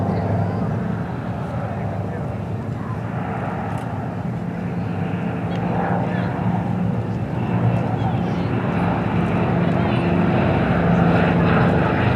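P-51 Mustang warbirds fly a display at Sywell Airshow, their propeller engine drone a steady, loud roar that swells slightly toward the end, with a commentator talking over it.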